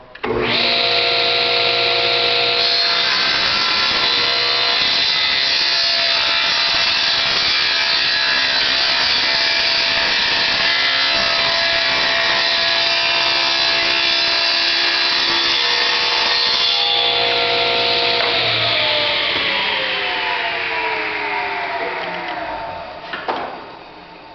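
A power saw cuts a taper along a wooden table leg with a loud, steady, humming whine for about twenty seconds, then the blade winds down as the cut ends.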